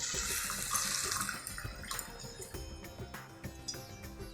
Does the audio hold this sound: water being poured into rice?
yes